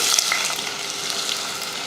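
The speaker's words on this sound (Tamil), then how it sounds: "எண்ணெய் காஞ்சதுமே ஒரு கிராம்பு, ஏலக்காய், அன்னாச்சிப்பூ, ஒரு பட்டை, ஒரு பிரிஞ்சிலை எல்லாமே ஒன்று சேர்த்துக்கிறேன்." Whole cloves, cardamom, star anise, cinnamon bark and bay leaf fry with onion in hot oil, a steady bright sizzle with small crackles and pops, close and continuous with no voices.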